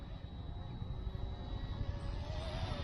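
A first-generation RC ERA C138 radio-controlled helicopter flies outdoors on a sunny day, giving a thin, steady motor whine over a constant rotor hum at moderate distance.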